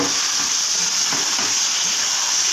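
Fish coated with salt and turmeric fries in hot spiced oil for a Bengali fish curry, giving a steady, close sizzle and crackle with a soft hiss throughout and no voices.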